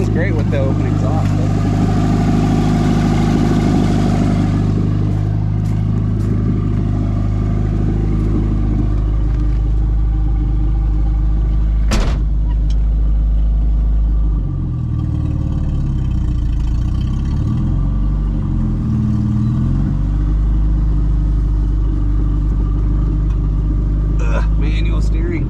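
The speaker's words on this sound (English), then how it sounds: "Sounds great with the open exhaust." A 1987 Chevrolet S-10 engine idling with an open exhaust after sitting unused since 1999, a loud, steady low rumble up close, with brief shifts in tone midway and someone talking over it.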